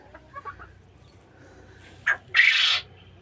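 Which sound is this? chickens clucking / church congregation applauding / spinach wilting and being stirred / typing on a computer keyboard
chickens clucking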